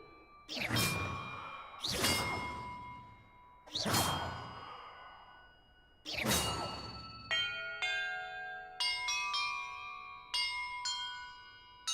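Video game puzzle bells are struck one after another, first four slow, ringing strikes, each fading, then a quicker run of bright overlapping chimes.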